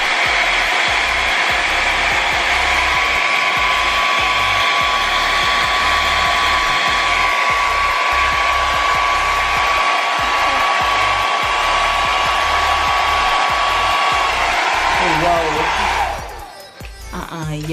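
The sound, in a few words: hair dryer blowing on highest setting, cool air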